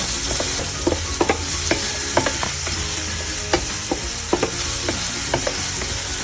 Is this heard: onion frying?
yes